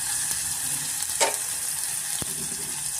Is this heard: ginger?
yes